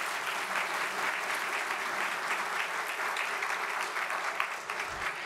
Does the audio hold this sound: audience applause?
yes